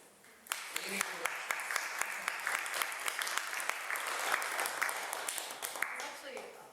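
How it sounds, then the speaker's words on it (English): A modest audience applause for a presenter named Christina, steady scattered clapping with a few sharper individual claps standing out, moderately distant and continuous throughout. "if we can have a little round of applause for Christina to go on"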